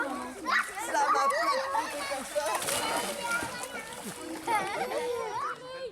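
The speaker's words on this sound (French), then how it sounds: "Alors là, ça éclabousse davantage." Water splashes in a large bathtub used as a pool while children play and shout close by, with the splashing coming in bursts under their excited voices.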